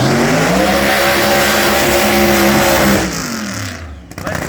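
A nitro-fuelled drag racing car engine roars loud and close with a harsh, crackling rumble, then cuts off abruptly, leaving a fading mechanical whine and clatter, at a drag strip in Meremere.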